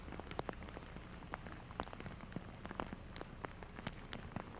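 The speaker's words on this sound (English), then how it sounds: "And the rain's still coming down." Steady rain falls on an open disc golf course, a continuous hiss with scattered close drops tapping and pattering irregularly, no voices over it.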